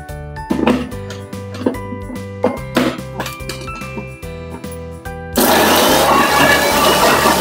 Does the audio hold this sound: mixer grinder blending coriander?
yes